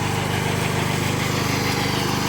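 An MTZ tractor diesel engine runs close by with a loud, steady rhythmic throb and dense rattling vibration, unbroken for the whole moment.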